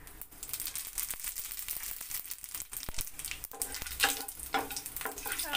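Dried red chili half, bay leaf and radhuni seeds dropped into hot oil, crackling and sizzling closely with sharp pops and stirring scrapes, fairly quiet and with no talk.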